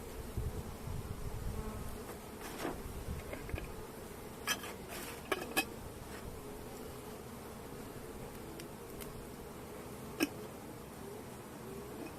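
Honey bees hum steadily around a hive where newly emerged worker bees and a new queen are being introduced, a soft, continuous drone with a few faint clicks and knocks over it.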